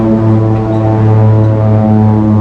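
A loud, steady engine drone from a large airplane holds at an even pitch throughout, with no voices over it.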